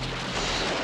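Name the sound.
explosion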